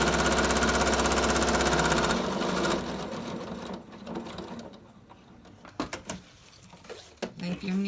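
A sewing machine runs in a fast continuous whir while stitching around a ribbon face mask, then stops, followed by scattered clicks and handling taps as the fabric is turned.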